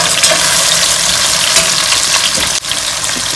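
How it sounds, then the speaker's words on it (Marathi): Sliced onions fry in a pan on their way to browning for a chicken pulao, a loud, steady sizzle with a brief clatter partway through. "आणि आता हे जे कांदे आहेत ह्यांना आपण छान फ्राय करायचं आहे, ऑलमोस्ट एक छान ब्राऊन कलर येऊपर्यंत."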